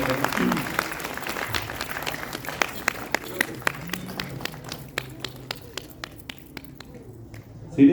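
Crowd applause for a retiring staff member at an IVRI Bareilly retirement ceremony, a dense patter of clapping that gradually thins into sparser individual claps as it fades.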